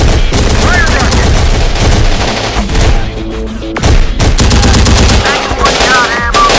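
Sustained heavy automatic gunfire from a Terminator Dark Fate Defiance battle, dense machine-gun bursts and booming shots filling the scene loudly, with brief shouted voices in the mix.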